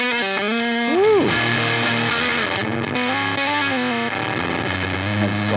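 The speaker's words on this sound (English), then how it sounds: "Nastier, stickier sounds all the way up" Electric guitar through a fuzz pedal with the bias turned all the way up, giving a nasty, sticky, sputtering distorted tone with bent notes and ringing chords, loud and close with no talk.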